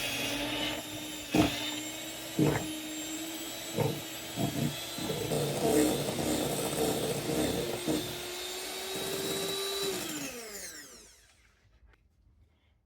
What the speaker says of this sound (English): we're just going to mix this up with a mixer